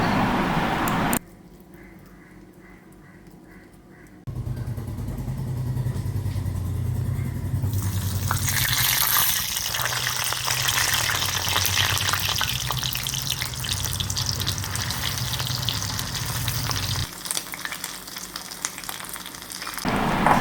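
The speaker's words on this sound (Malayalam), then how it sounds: "അപ്പോൾ നമ്മുടെ എണ്ണയൊക്കെ ഇപ്പം ചൂടായിട്ടുണ്ട്" Stuffed egg and onion dough balls fry in hot oil with a loud, steady crackling sizzle that drops briefly near the start, then surges back and keeps hissing without a break, up close.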